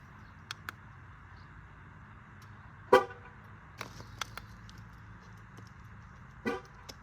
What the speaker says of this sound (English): waiting for that horn to sound